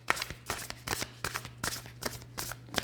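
Tarot cards shuffled by hand in quick repeated riffles, a soft crisp flutter with about a dozen bursts close to the ear, over a faint low hum and no talking.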